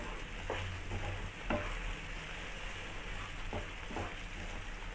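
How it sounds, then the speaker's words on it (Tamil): Bread halwa with roasted nuts being stirred in a hot pan, giving a continuous soft sizzle with a few scraping strokes of the spoon against the pan. "சேர்த்துட்டு நல்லா கிளறி விட்டுருவோம்."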